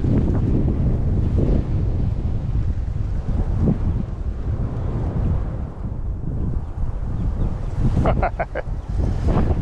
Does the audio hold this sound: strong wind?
yes